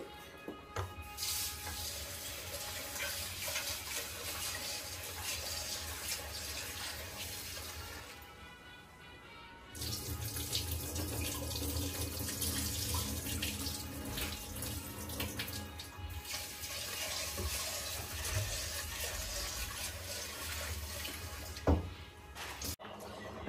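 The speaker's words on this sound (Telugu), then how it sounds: "ఇప్పుడు వాటర్ పోసుకొని శుభ్రంగా కడిగేసుకుందామండి దీన్ని." Water pours and splashes as rice and lentils are washed in a bowl for dal khichdi, a steady close rushing that pauses briefly partway, then resumes with sloshing and a single sharp clink.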